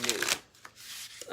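Tarot cards shuffled by hand: a quick run of crisp riffling and rubbing bursts close up, then softer sliding card noise with brief pauses, with no voice over it.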